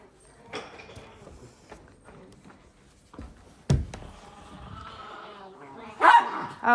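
Dogs barking indoors, scattered sharp barks and yips coming in short bursts between quieter gaps, with a voice briefly audible.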